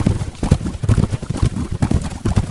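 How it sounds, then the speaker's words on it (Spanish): Horse hooves gallop in a steady, rapid rhythm of heavy, close hoofbeats that carry on throughout without any voices. "si escuchas con atención, oirás el galope de un caballo que no deja huellas"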